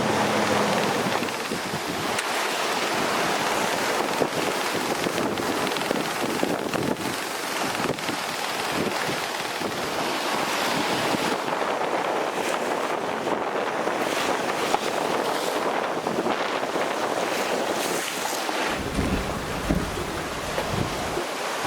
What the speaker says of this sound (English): We're taking the odd green wave here in the cockpit, and yeah, we're really rocking and rolling.